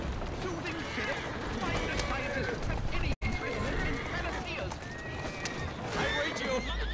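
A horse in the video game Assassin's Creed Syndicate gallops with steady clip-clopping hooves and an occasional whinny, amid busy game noise with a voice talking over it.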